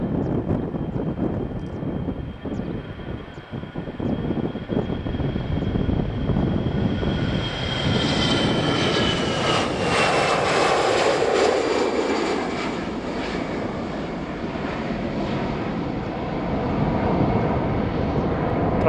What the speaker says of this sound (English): There is a takeoff. Let's make this takeoff.